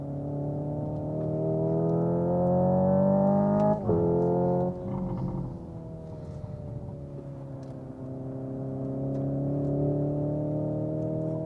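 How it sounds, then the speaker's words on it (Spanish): A 2025 Hyundai Ioniq 5 N electric car plays a simulated engine note that rises as it accelerates, drops sharply with a paddle upshift and a brief pop, then climbs again, fairly loud from inside the cabin. "Hay hasta petardeos."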